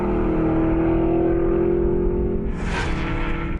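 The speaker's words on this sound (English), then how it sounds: "This is the Vantage S, a tweaked version of the already potent V8 sports car." An Aston Martin Vantage S V8 sports car engine, a loud close rumbling drone with a strong steady tone that holds, then a brief airy burst near the end as the sound shifts, with no voices over it.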